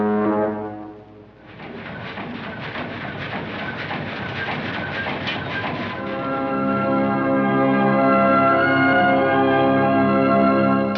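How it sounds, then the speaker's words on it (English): The nautical whistle of a seagoing railway train on the British Columbia coast blasts loudly, fading briefly before a rumbling, clattering stretch, then sounding again as a long, sustained, tonal horn blast. "it's time for Casey to start back again with a blast from his nautical train whistle"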